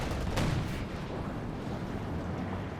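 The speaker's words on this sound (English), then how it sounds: "Pershing fires." Pershing tank main gun firing in a Company of Heroes 2 battle, a single heavy boom early on followed by a dense wash of battlefield rumble and distant explosions.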